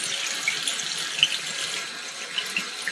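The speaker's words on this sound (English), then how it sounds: "And now wash hands." Water runs steadily from a tap into a sink during hand washing, a close, even hiss with small splashes.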